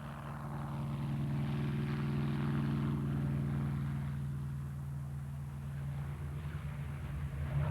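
A propeller airplane engine drones steadily and loudly nearby, a deep continuous hum that holds for several seconds with no one speaking.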